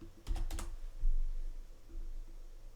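Quick bursts of keystrokes on a computer keyboard while entering code, a few sharp clicks close to the microphone, then quiet with faint low rumble.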